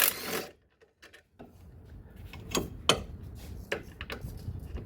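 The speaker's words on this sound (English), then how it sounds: "I can take these shock bolts out." Bolts come out of the front shock on a C4 Corvette with a jack under the control arm: faint, close metallic ticks, clicks and taps scattered through a quiet garage after an opening rustle.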